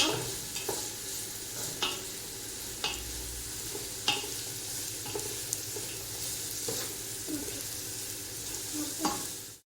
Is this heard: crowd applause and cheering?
no